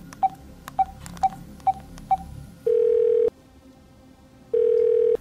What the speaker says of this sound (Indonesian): langsung mengambil HP-nya dan memencet nomor yang tertera di iklan